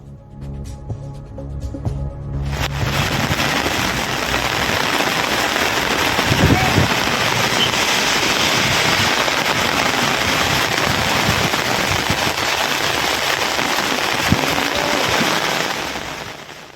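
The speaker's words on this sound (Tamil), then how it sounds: "விருதுநகரில் மழை பெய்து வருகிறது" Moderate rain falls in Virudhunagar, Tamil Nadu, around the district collectorate area. After a couple of quieter seconds, a dense, steady hiss of rainfall starts abruptly and carries on evenly to the end.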